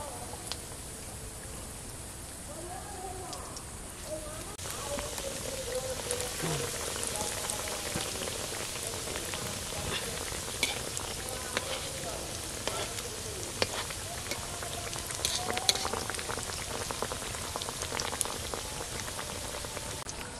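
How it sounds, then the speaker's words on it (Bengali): Egg cutlets frying in hot oil in a kadai, giving a steady, dense crackling sizzle that runs unbroken throughout at moderate level. "কাটলেটগুলো ভেজে নেব"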